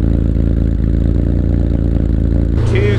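A twin-turbo Mitsubishi 3000GT VR4 6G72 engine starts and rumbles steadily at idle, close and loud, with mechanical clatter, then the tone shifts and settles lower near the end.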